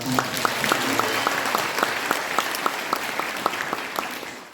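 A church congregation claps after a special song at a monthly worship gathering, the applause settling into a fairly even rhythmic beat of distinct claps that carries on steadily throughout.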